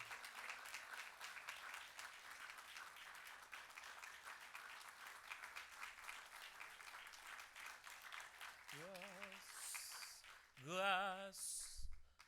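A church congregation at a worship service applauds steadily for about ten seconds, a sustained wash of clapping, before singing and voices break in near the end.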